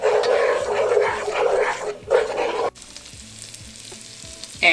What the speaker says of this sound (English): That's the garlic and the wine mixture right there. And saute that.